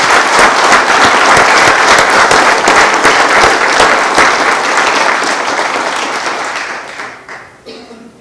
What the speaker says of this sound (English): Please join me in giving them all a very big round of applause.